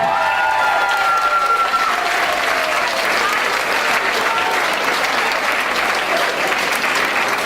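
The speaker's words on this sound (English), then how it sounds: "Give her a big round of applause" A crowd at a fun dancing charity night for Clanwilliam F.C and Galtee Rovers gives a big round of applause, loud, dense and unbroken clapping that holds steady from start to finish.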